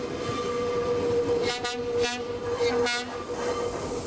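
A passenger train in Ecuador rumbles steadily nearby, a constant tonal hum over the running noise, with a few short whistle-like bursts in the middle.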